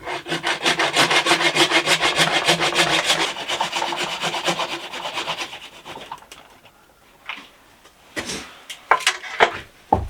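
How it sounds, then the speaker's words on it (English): A small hand saw cuts through a Japanese maple 'Arakawa' bonsai branch with steady, rhythmic back-and-forth strokes close up, easing off partway, followed by a few scattered clicks and handling noises. "It's a gentle saw, cutting this at the same angle as the attached branch."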